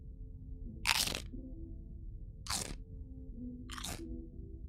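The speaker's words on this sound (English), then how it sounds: "let me give you a little gremlin chip ASMR" Crunchy gremlin chips being eaten close to the microphone, three separate loud crisp bites with quiet gaps of low background hum between them, and no talking.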